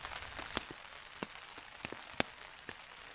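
Rain patters on a tent overnight during camping, with soft continuous hiss and scattered distinct drop taps at irregular intervals, faint and close.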